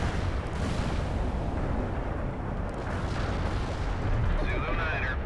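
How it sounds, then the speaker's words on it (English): Artillery barrage in a military video game, a dense continuous rumble of booming fire with low heavy bursts throughout, brief radio-style voices faintly under it. "Artillery barrage inbound."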